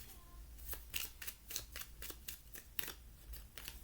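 Oracle cards being handled and drawn during a card reading, with a run of about ten crisp, papery snaps and flicks in an irregular rhythm, heard close and alone over a quiet background.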